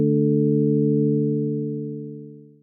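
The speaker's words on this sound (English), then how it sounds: "Start with a sine wave. Increase the release so it fades out." A soft, ambient synth keys patch built from a sine-wave oscillator holds one steady, mellow low note that slowly fades away on a long release, heard alone with no talking.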